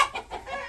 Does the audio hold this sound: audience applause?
no